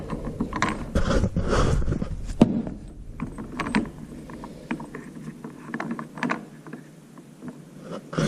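A 1/2-inch drive ratchet with a 24mm socket tightens a strut mount nut on a 2014 Chevy SS, giving bursts of close, rapid clicking strokes with brief pauses between.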